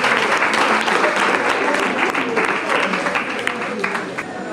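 An audience at a holiday celebration quiz claps loudly and steadily for a contestant who answered correctly, a dense burst of applause fading slightly at the end.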